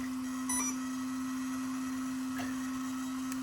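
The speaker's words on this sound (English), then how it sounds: "I've got a fan on the ESC, so that's kicked in" An RC car ESC with its small cooling fan running on the bench beside a SkyRC 7-in-1 meter, a steady electric whine and whirring hum holding one pitch, with a couple of faint clicks over the top.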